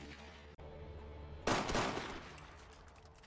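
Gunfire in an action film about a casino robbery against gangsters: after quieter background sound, a sudden loud burst of shots erupts midway, then fades into a ringing, decaying tail.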